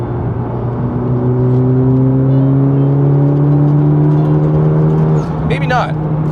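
Honda Civic Type R engine pulling hard under load, a steady loud drone with harmonics climbing smoothly for about five seconds before the revs drop off, followed by a brief burst of higher mechanical whine.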